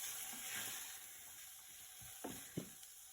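Barley and lentils frying in ghee with a spice mixture, a steady low sizzle throughout with a few soft stirring scrapes near the end, close and fairly quiet.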